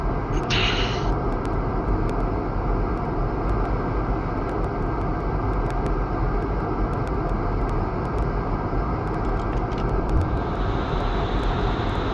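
F-14B Tomcat jet engines roar steadily with afterburner in the DCS flight combat game, a loud, continuous broadband rush sustained throughout with faint clicks and a brief hiss early on, no voices.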